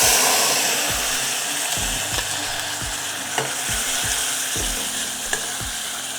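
Paste of ground tomato, tamarind and betel leaf with turmeric frying in a pan, a loud steady sizzle broken by repeated scraping strokes of a spatula stirring it.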